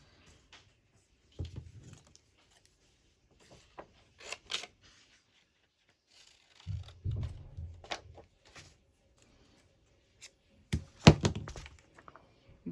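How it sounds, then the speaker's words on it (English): Kids thump around upstairs, producing muffled, irregular thuds and knocks heard from a room below, faint and scattered in short clusters separated by near silence. "You can hear thumping, it's the kids upstairs."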